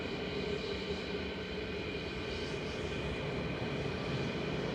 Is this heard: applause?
no